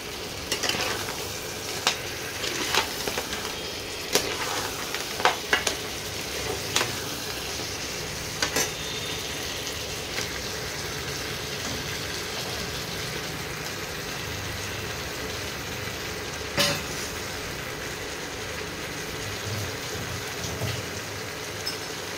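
Crab legs frying in a spice paste as they are stirred, a steady close sizzle with scattered scraping strokes and clicks running throughout, no voices.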